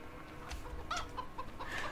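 Farm chickens in Farming Simulator 2015 give a few quiet, scattered clucks over a low hum, with no voices.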